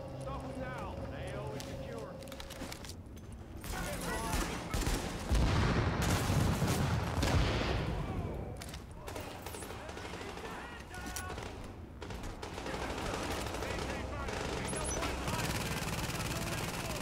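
Video game shootout in the Grand Central Station mission on hard difficulty: dense bursts of automatic gunfire and single shots crackle nonstop, with a heavy close flurry midway, while players talk over the action.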